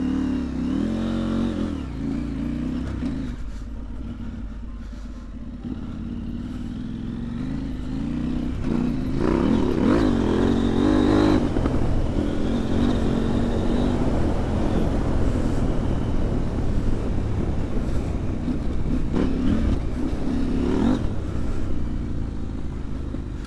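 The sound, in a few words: heavy motorcycle engine revving while riding on ice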